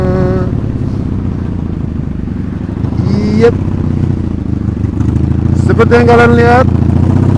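A 1984 Honda Magna 750cc V-twin motorcycle engine runs close by with a steady throbbing idle, blipping briefly partway through, while someone talks over it.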